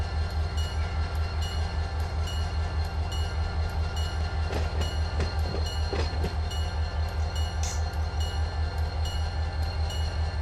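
Freight train rolling in the Run 8 train simulator game, a steady loud low rumble with faint rail clicks and squeals running throughout, no voices.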